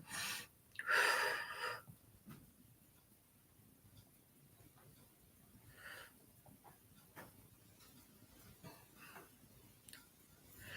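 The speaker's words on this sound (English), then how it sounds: "Breathe in and out." A slow, audible breath in and out during a guided movement exercise, with a stronger gasping inhale near the start followed by quieter, faint breathing against a low, steady background.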